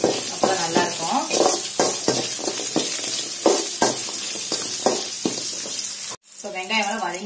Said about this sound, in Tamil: இப்போ வந்து சின்ன வெங்காயம் வந்து நல்லா வதங்கட்டும் இஞ்சி பூண்டோட நல்லா வதங்கும்